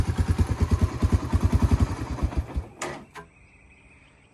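A Honda 300 ATV engine idles with a rapid, even chugging pulse up close, then sputters and dies out, followed by a couple of sharp clanks and near quiet.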